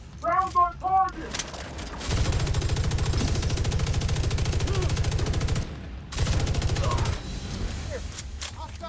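Light machine gun fire in The Division 2, two long sustained bursts of rapid, loud, evenly spaced shots separated by a brief pause, preceded by a short spoken callout.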